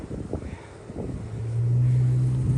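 A six-cylinder Ford Mustang engine rumbles nearby, starting with uneven low pulses and then settling into a steady, louder droning hum for the final second or so.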